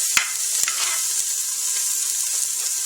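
Onion and celery sauté in a pot for pumpkin soup, giving a loud, steady sizzle throughout, with two sharp clicks of a utensil against the pot near the start.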